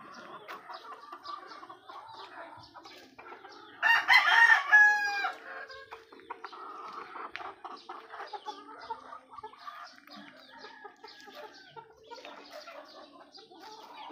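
Backyard chickens clucking softly and pecking around, with a rooster crowing loudly and close by partway through, followed by more scattered clucks and small calls.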